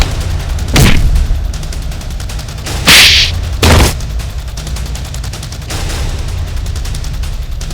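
Gunfire in a Hindi TV crime drama series: three sharp, loud shots ring out alone, one early, then two close together near the middle, with no talking.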